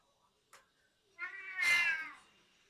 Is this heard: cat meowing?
yes